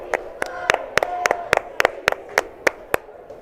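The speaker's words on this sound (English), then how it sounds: "Let's get a couple claps at home for Travis Coe." Clapping for Travis Coe at a high school varsity basketball game: about a dozen crisp, evenly spaced claps in a steady rhythm over a faint indoor background.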